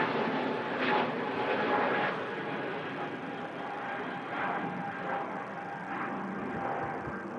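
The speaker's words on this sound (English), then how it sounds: "Here goes the EasyJet to Istanbul, Neo." An EasyJet airliner departs Manchester Airport bound for Istanbul, heard as a steady broad engine roar that swells and fades over several seconds. The sound stays moderately distant and is heard alone, with no talk over it.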